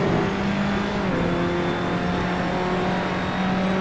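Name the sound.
racing car engine in Assetto Corsa video game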